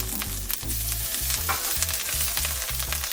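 Minced garlic and grated ginger sizzle loudly in a hot pan while a utensil stirs them, producing repeated rhythmic scrapes and clacks over a constant close frying hiss.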